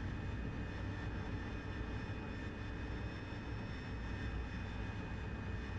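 A Harrier AV-8B jet engine roars steadily as it builds speed in the DCS World flight simulator. The dense broadband rumble carries faint high whines and holds an even level throughout, with no voice.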